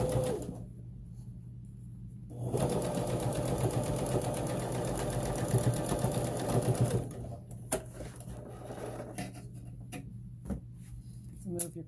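A sewing machine runs a quick burst of stitching along a fabric face mask seam, a close, steady mechanical whir lasting several seconds before stopping, followed by faint clicks and handling sounds.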